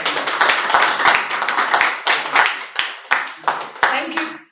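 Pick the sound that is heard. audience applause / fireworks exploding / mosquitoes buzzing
audience applause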